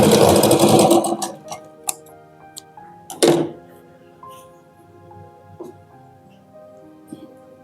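A sewing machine stitches two blouse pieces together in a short loud burst, then falls quiet apart from scattered clicks and small taps, with no talking over it.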